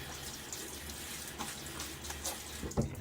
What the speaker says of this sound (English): One more splash of water.